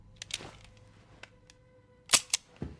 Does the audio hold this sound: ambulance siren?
no